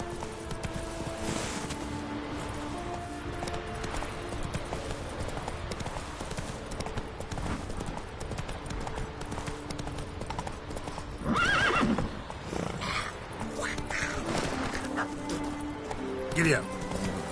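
Roach, a horse in The Witcher 3, gallops in rapid rhythmic hoofbeats under game sounds, with a short whinny and occasional voices breaking in.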